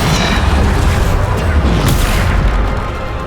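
Bombarda spell explosion in Hogwarts Legacy, a loud, dense, sustained blast that rumbles and slowly fades, with a voice speaking over it.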